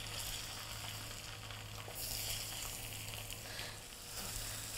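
Mirza Ghasemi, a smoky eggplant dish, sizzling and frying in a pan while being stirred, a soft continuous crackle with occasional scraping of the utensil, close and fairly quiet with no voices.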